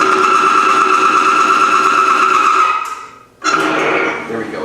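Falex lubricant test machine running dry under 75 pounds of pressure, a loud steady motor hum with strong tonal whine, dropping out briefly near the end before resuming.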